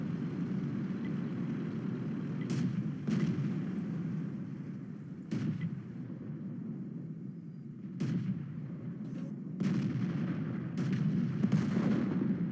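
Tank cannon shots from the World of Tanks game ring out about half a dozen times at irregular intervals, sharp booming cracks over a constant low engine rumble.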